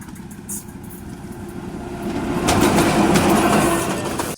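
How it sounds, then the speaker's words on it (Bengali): A train approaches and rolls past on a railway track where a coin was placed, its rumble and clatter building to a loud, close roar before cutting off. "চলে এসেছে এবং ট্রেনটি আমার কয়েনের উপর দিয়ে দেখুন চলে গেল"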